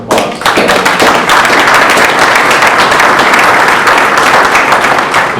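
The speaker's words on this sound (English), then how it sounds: "So hands, round of applause." Loud, close round of audience applause at a cherry pie festival, dense and sustained clapping from many hands that begins abruptly and holds steady throughout, with no speech over it.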